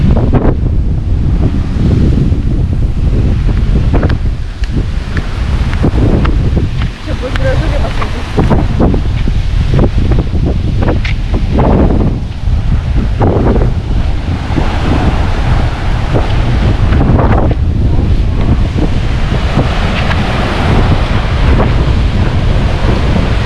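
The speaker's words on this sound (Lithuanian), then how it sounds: "Tikrai per didelės bangos čia maudytis" Big sea waves pound a beach on Koh Phangan, a loud, continuous roar of surf with heavy wind buffeting the microphone and no clear voices.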